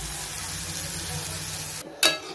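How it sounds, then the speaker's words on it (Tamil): Onions sautéing in a pan until golden brown, with a steady broadband sizzle and a low stirring rumble that ends in a sudden near scrape and clatter. "நல்லா பொன்னிறமாக வெங்காயத்தை வதக்கியாச்சு"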